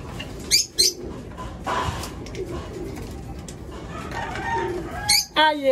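Pigeons kept as young birds in a loft make soft cooing and fluttering sounds nearby over a low background murmur, with a few sharper chirps and wing noises near the start and end.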